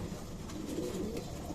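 Racing pigeon cooing at close range, a steady low throaty coo running through the whole short stretch with no talk.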